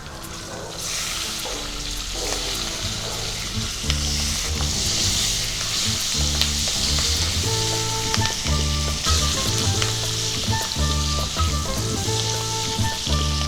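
Diced onions frying in hot oil with cloves and bay leaves for chicken surua, a steady sizzle with occasional stirring running throughout beneath continuous background music.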